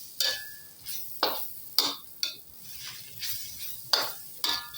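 A spoon stirs chicken kottu in a pan, producing about eight sharp metallic scrapes and clinks at irregular intervals over a soft sizzle, close and clear with no talking.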